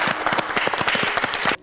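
An audience applauds in a dense, even burst of clapping, near and loud, that carries steadily and then cuts off abruptly at the end.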